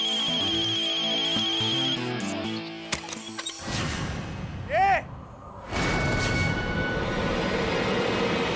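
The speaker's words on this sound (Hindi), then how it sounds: "अरे तुम्हारा फोन बज रहा है।" A phone ringtone plays in a crime drama scene, a repeating high electronic melody over music in the opening seconds, then cut off by a rising tonal sweep and dense rumbling noise.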